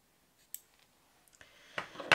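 Scissors cut crochet yarn in a few quick, close snips and clicks, ending in a sharper final cut, in an otherwise quiet room.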